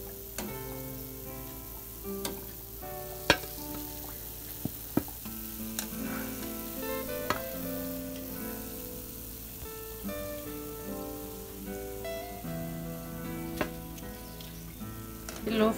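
Sweet semolina mathri frying in oil over a low flame, a steady soft sizzle with bubbling crackle, punctuated by sharp clicks and taps of a utensil, heard close and alone.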